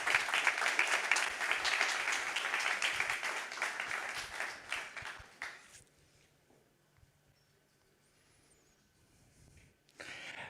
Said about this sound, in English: please give Jacopo a round of applause